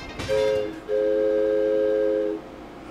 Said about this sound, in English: the small train started slowly moving